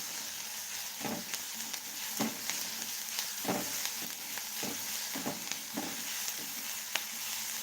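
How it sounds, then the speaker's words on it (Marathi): Onions with a little salt sizzle steadily in a frying pan as a spoon stirs them, with soft scraping taps at irregular intervals over the continuous frying hiss, close up with no talking. "याला व्यवस्थित असं हलवून घेऊ"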